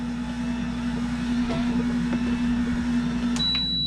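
An electric pasta maker hums steadily while it mixes dough, a constant motor drone with a faint tonal whine and a brief high beep near the end.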